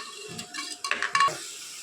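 Food being mixed with salt in a bowl by hand, giving a few soft scrapes and light clinks close up, with no talking.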